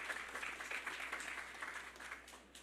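An outdoor crowd gathered for a solar project sod turning at Brechin Castle gives a short round of applause, a soft, fairly distant patter of many hands that tapers off at the end.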